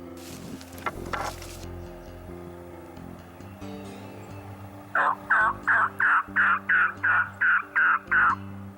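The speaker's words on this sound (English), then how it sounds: "we've got this gobbler, and it looks really close on film, but it's about 150 yards away out in this field" A wild turkey gobbler in an open field about 150 yards away answers with a run of about ten loud, evenly spaced gobbling calls after a few seconds of quieter outdoor noise.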